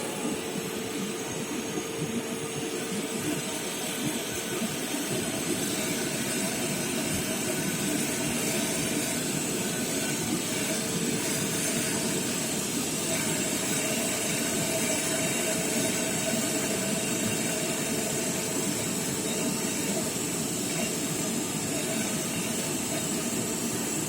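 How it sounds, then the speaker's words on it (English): A DC shunt motor runs steadily under load during a load test, giving a continuous, even mechanical drone with broadband hiss and a faint whine. It holds at a constant level throughout, close and alone, with no speech. "So after varying the load, you have to parallelly measure the speed of the motor."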